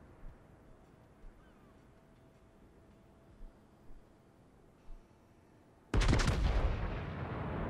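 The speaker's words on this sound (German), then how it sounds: "jetzt wird hier wieder aus der Nebelwand auf ihn geschossen." Ship cannon fire in the naval combat video game World of Warships erupts as a single loud blast from a smoke screen near the end, after quiet game ambience.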